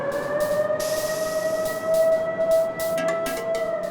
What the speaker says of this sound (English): They always sound a siren when something big and hot is being moved in the mill.